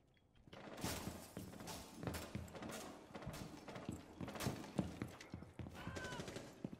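Rainbow Six Siege gunfire crackles in uneven bursts and single shots, fairly faint and set back in the game mix, with scattered thuds between them.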